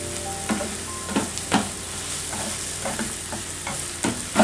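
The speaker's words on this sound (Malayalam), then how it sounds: "ഉള്ളി റോസ്റ്റായിട്ടുണ്ട്" Onions roasting with a sprinkle of salt in a pan give a steady sizzle, broken by several sharp scrapes and stirs of a spoon at irregular moments, close by with no talking.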